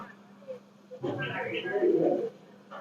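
A male Chinese pigeon, an imported breed kept among show pigeons, coos in a low, throaty burst lasting about a second, close by, with someone talking over and around it.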